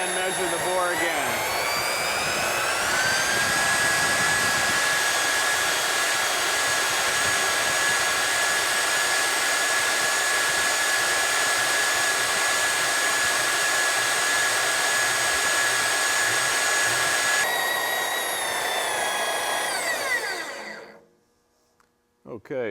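A line boring machine cuts a bore in heavy equipment such as Caterpillar, Case, Komatsu or Deere machinery, giving a steady, loud whirring whine that holds for about twenty seconds before it winds down and cuts out. A voice speaks over it.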